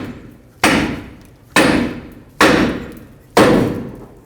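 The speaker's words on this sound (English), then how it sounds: "Turn the knuckle as much as you can and hammer this area on the back side." Four sharp metal hammer strikes on the back of a Ford F-150 steering knuckle, 2004-2008 front suspension, evenly spaced about a second apart, each ringing and decaying, loud and close with no talk.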